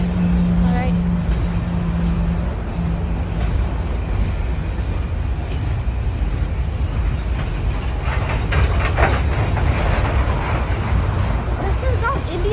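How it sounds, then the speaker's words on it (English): A CPKC coal train passes in Mission, British Columbia, Canada, as a loud, steady rumble with wheel rattle and clatter throughout, close by, and a brief horn-like tone near the start. "This is not Indian train. This is Canadian train."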